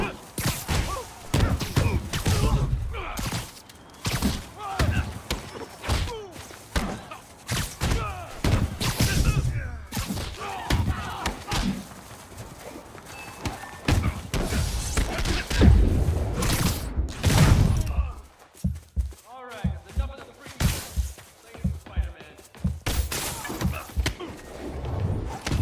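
Gunfire in a Spider-Man video game during a holdup: a long run of sharp, loud bursts and thuds with crashes, dense and irregular, with voices talking in between.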